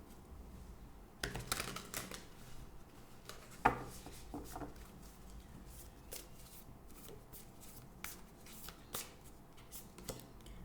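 Oracle cards being shuffled by hand during a tarot reading, soft papery riffles and taps in irregular bursts, close but quiet, with no talk.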